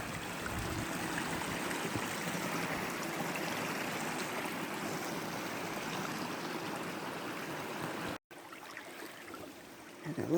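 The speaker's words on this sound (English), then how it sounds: "Another little waterfall." A small waterfall on a forest trail in Yellowwood State Forest, Indiana, rushes steadily with a broad, constant wash of water, briefly cut off near the end before the flow resumes.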